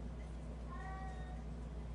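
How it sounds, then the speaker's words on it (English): An old cat, about 20 years, meows once, a short, faint, drawn-out cry over a low steady background hum. "Do you hear my cat?"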